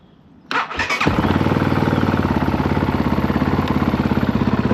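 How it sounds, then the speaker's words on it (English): Kove 450 Rally motorcycle engine cranking and firing up, then settling into a steady, loud, rhythmic warm-up idle close by. "then run the bike to warm it back up"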